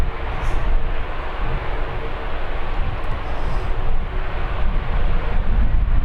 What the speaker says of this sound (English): every ATR, Aer Lingus ATR today, you know me and the sound of an ATR